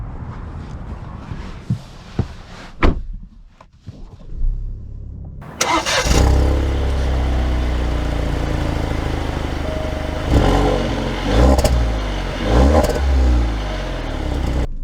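A 2023 Alfa Romeo Giulia Ti starts up after a few quiet knocks and handling sounds, then settles into a loud, steady engine hum, with a couple of revving surges as it moves off.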